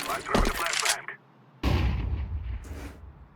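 A flashbang goes off in Counter-Strike 2 on the Overpass map, two sharp, loud bursts separated by a brief gap, each trailing into a bright ringing wash.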